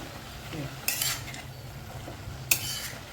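A vegetable dish of wild fodshi greens being mixed in a pan: two sharp metal spoon clinks against the vessel with soft stirring and faint sizzle between, quiet and close, no talk.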